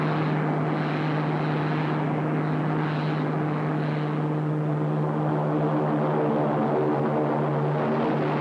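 A sci-fi orbit jet spaceship landing, rendered as a steady droning engine hum with a strong low tone and broad roar, loud and continuous throughout with no voices.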